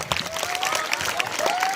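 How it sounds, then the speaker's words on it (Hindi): Brief burst of audience applause at a school play in India, scattered claps with a faint whistle-like tone running underneath. "तालियों के साथ स्वागत कीजिए इनका।"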